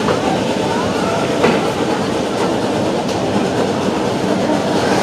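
Roaring Camp narrow gauge train climbing a steep 8.5% grade, a constant loud rumble of rolling cars with clickety-clack wheel beats and brief squeals, no voices.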